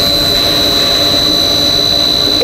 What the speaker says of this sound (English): Main motor, I show you,